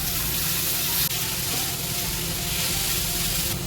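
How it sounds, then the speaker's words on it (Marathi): Spinach sizzles and fries in a pan with onions, a steady, loud hiss with crackling and faint stirring throughout, no voices. "त्यामध्ये पालक टाकलाय. पालक परतून घेऊया."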